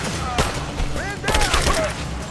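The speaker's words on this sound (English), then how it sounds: "Give me covering fire! I'm under fire!" Gunfire in Rise of the Tomb Raider cracks out in scattered shots and short bursts under a constant loud background rumble. Several shouting voices overlap with the shooting.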